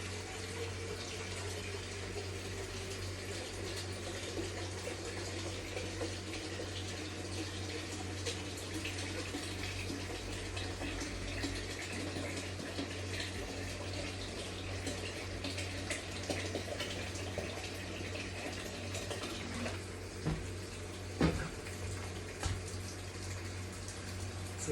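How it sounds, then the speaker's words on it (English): Tap water runs steadily into a cooking pot in a home kitchen while lasagna is being prepared, a continuous hissing rush with no talking and a few small clunks near the end. "And then I'm gonna add some more water because I have a lot of lasagnas to do."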